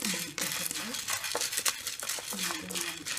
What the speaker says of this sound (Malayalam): ഇപ്പോൾ പരിപ്പ് വറുക്കുന്നു.